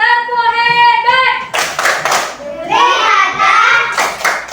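A primary school class does a rhythmic 'tepuk hebat' clap for group 4, with sharp group claps in bursts between stretches of children chanting in unison.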